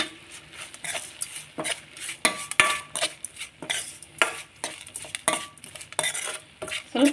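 A spoon repeatedly scrapes and clinks through tomato gojju with turmeric and rock salt in a pan, with a soft sizzle under the rhythmic stirring strokes. No one speaks.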